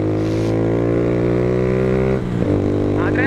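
A 150cc motorcycle engine hums steadily at a constant pitch while riding, close and loud, briefly dipping and shifting as it changes speed.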